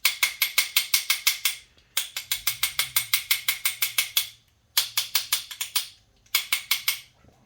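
Metal brake parts on a Hyundai Sonata 2.4L being tapped to knock out brake dust, giving a rapid run of sharp metallic clinks in four bursts separated by short pauses, close and loud with no talk.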